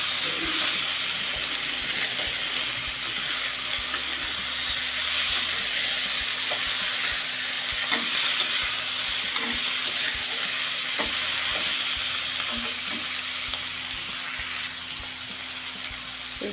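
Potatoes fry with spices in a pan for sabudana, holding a long, steady hiss of sizzling with occasional faint clicks as they are stirred and mixed, close and continuous with no talk.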